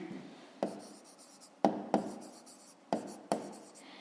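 Pen strokes on paper during a maths exercise, quiet scratching in several distinct bursts with sharp onsets, alone with no talk.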